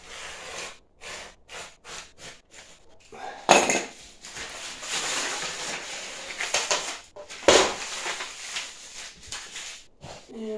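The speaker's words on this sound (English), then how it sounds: "But I'm just cutting with a utility knife" A utility knife slices through a tough Tyvek sheet in a run of short, close scratchy cuts, then longer rasping tearing strokes with sharp onsets. No one speaks.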